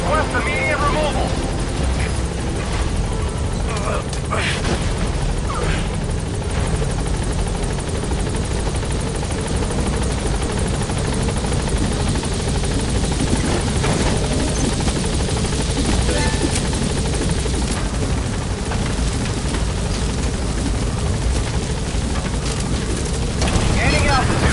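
A Metal Gear Solid V helicopter hovers near a landing zone, its dense rotor roar and rushing wash filling the whole stretch loudly and steadily while a radio voice speaks over it.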